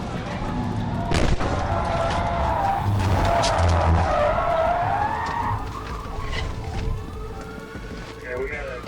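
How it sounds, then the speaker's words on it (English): A police car's tires skid loudly during a high-speed PIT maneuver on a pursued vehicle, a sustained screech rising and falling over engine roar, with voices on a radio or in the car under the noise. "officers executed a high-speed precision immobilization technique maneuver"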